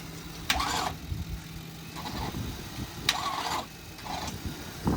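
A Police Interceptor engine fitted with an aftermarket starter cranks in repeated short bursts, each a whirring churn lasting about half a second to a second, separated by brief pauses, at moderate volume.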